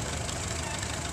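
Restored antique tractor engine running steadily at a low, rumbling idle with a faint knocking texture, heard alone and continuous throughout.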